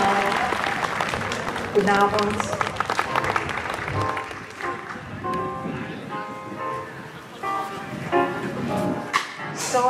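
Audience applause at an outdoor jazz evening on a town square in summer, a burst of clapping that fades as a woman greets the crowd over a microphone and brief instrumental tones sound.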